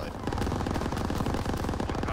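An LMG turret in Call of Duty: WW2 multiplayer fires a continuous, rapid automatic burst that stays loud and dense for the whole stretch.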